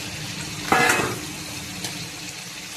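Pieces of fish dropped into a hot oiled pan burst into a sudden loud sizzle that quickly settles into a softer, steady hiss with a faint later crackle.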